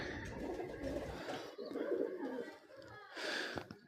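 Soft pigeon coos repeat in low murmuring phrases close by as pigeons pull nesting straw, with faint rustling and a brief voice in the background.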